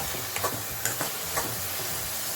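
Onion and garlic frying in a pan for a dry-fish dish, a steady close sizzle with a few light spatula stirs and scrapes over it, no voices.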